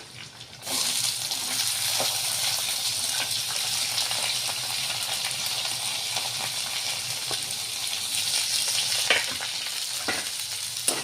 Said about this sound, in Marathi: हे कांदे छान उगू द्यायचे तेलामध्ये